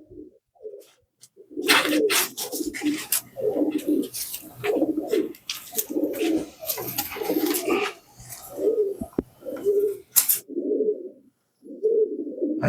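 Pigeons coo in repeated low, throaty phrases with short pauses between them, fairly close and steady, with no talk over them.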